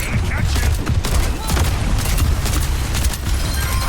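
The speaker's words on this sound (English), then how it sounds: "Rocket barrage incoming." A rocket barrage in a video game, a dense continuous rumble of overlapping blasts and booms with crackling explosions throughout, loud and unbroken.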